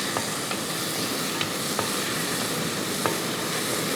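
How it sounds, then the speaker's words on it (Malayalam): Tomatoes are sautéed in a pan for sardine curry, giving a continuous loud sizzle with occasional faint scraping ticks from stirring. "ഈ തക്കാളിയൊക്കെ നന്നായിട്ട് നോടണം വഴറ്റിയെടുക്കണം"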